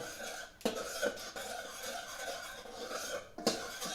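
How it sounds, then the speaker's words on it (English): A spoon stirs blood orange hot pepper sauce simmering in a pot, giving a soft continuous rasping scrape with a few sharper knocks against the pot near the start and end. "Just keep stirring"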